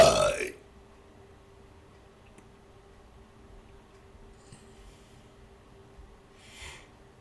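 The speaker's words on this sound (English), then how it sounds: "First belch of the day" A single short, loud belch bursts out at the very start, then fades into near silence with a faint steady hum and a soft rustle near the end.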